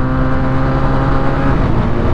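A Benelli 177 motorcycle, five years old, pulls hard in first gear with a loud, steady engine drone and no break in tone, close to the rider and with no voice over it.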